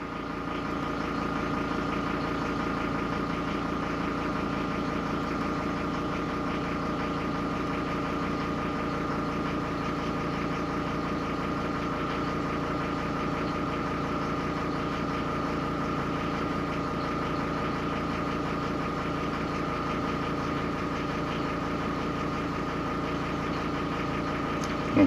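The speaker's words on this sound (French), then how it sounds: "Donc moteur diesel, vas-y" A Mercedes W210 E290 with its OM602 diesel engine idles steadily and evenly, a low rumbling hum with a faint knocking clatter that holds unchanged throughout.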